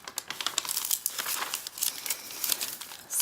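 Watercolor paper handled among junk journal materials gives dense, close crinkling and crumpling with sharp rustling bursts that continue steadily for a few seconds, with no voice over it.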